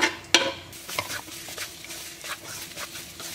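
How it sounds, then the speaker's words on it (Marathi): Beef frying in about two tablespoons of oil in a pan for Goan sorpotel, with a light sizzle under repeated scrapes and clinks of a spoon stirring the meat, including one sharp knock near the start. "पयले मांस भाजता."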